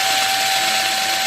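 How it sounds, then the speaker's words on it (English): Power drill boring a pilot hole to mount carbon fiber winglets on a Yamaha R1M motorcycle, a steady close high whine with a sustained tone, no break through the clip and no talk. "when you're drilling this, it drills a pilot hole and then it goes straight in."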